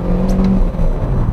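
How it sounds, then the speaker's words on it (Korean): A Hyundai Venue with a Smartstream engine runs under load while driving, giving a coarse, rough-sounding hum with a faint rise in revs. The drone is steady and close, heard from inside the cabin with no one talking. "엔진 사운드가 굉장히 너저분하죠"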